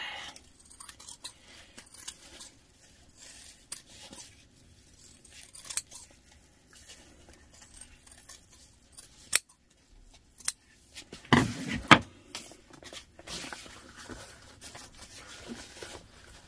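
Scissors trim fabric close to the stitching of a small travel packing pod wet bag, giving a string of quiet, crisp snips and clicks at uneven intervals with no voices.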